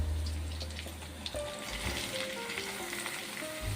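Chopped bottle gourd drops into a pan of frying onions and sizzles loudly and steadily up close, with faint clinks and a watery hiss, and no one speaks.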